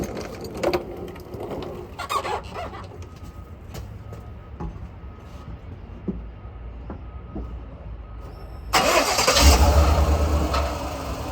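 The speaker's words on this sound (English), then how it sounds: "let me go back out there and start the truck again" A GMC Sierra pickup with an EVAP vent solenoid circuit fault cranks and its engine starts near the end, a loud burst of rumble after several seconds of quieter clicks and background noise.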